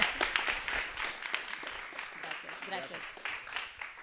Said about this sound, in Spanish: Ya nos quedaban 10 segundos, así que un gran aplauso